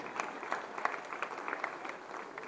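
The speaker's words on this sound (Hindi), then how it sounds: "कविता समाप्त हो चुकी है, ताली बजा सकते हैं।" A stand-up comedy crowd claps after a poem, a faint, steady patter of applause from a distance with no speech.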